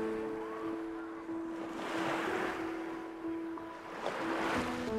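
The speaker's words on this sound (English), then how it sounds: "the waves are kind of big" Fairly big ocean waves surging and washing in broad swells, with a steady low tonal hum running beneath and no talking.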